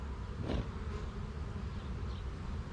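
Honey bee swarm buzzing steadily near a hive, a constant low drone throughout with one brief louder pass as a bee flies close.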